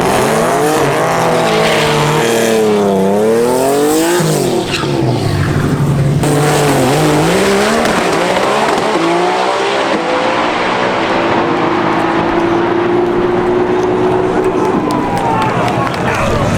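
Drag race cars at TX2K 2024 roar loudly, their engines climbing and falling in pitch as they run down the strip at over 200 mph. Crowd noise and a commentator's voice carry over the engines.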